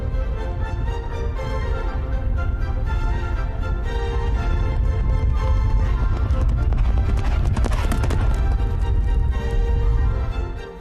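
Horses ridden across a beach at Holkham, hooves clip-clopping steadily through a continuous, loud wash of sound with surf and wind beneath, the hoofbeats building to a dense flurry near the end.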